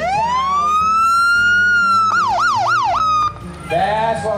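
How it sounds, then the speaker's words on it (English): An emergency vehicle siren at a small-town strawberry parade, loud and close, sweeping up into a long wail, then switching to a fast yelp before falling back. No one talks over it. "Can we hear the siren?"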